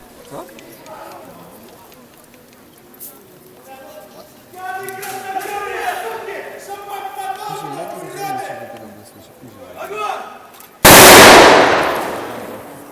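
A single sharp, loud gunshot cracks out near the end at an outdoor historical reenactment of Soviets at Książ Castle, following several seconds of people talking and murmuring.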